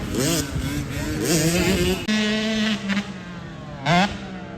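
A 65cc youth motocross bike engine revs on a dirt track, its high buzzing note rising and falling as the throttle opens and closes, loud and close with a brief drop around midway.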